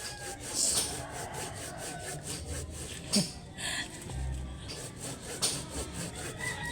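A hand saw rasps through avocado tree wood in quick repeated back-and-forth strokes, close by, with a few knocks and bumps mixed in.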